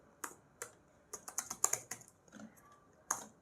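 Commands typed on a computer keyboard during a WiFi hacking workshop, heard as sparse, crisp key clicks at first, then a quicker burst of taps, with one last isolated keystroke after a pause; close and alone, with no talk.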